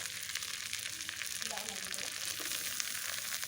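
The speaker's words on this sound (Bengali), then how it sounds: "তেল গরম হয়ে গেলে পেঁয়াজ লঙ্কা আর সাথে সেই শুকনো চিংড়ি বাটাটা আমি দিয়ে দিলাম" Onion, green chili and ground dried shrimp paste fry in hot oil for a Bengali cabbage dish, making a steady, close hiss of sizzling with faint stirring scrapes underneath.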